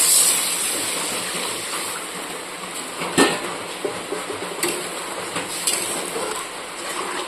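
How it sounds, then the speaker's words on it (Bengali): Water is poured into a hot cooking pan for an okra and prawn curry, bringing a loud, sustained hiss and bubbling with a sharp clank of metal partway through and a few lighter knocks after it. "তো আমি এবার এর মধ্যে জল দিয়ে দেবো।"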